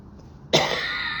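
A single sharp cough bursts out close and loud, with a harsh rasp that lingers briefly; there is no talking around it.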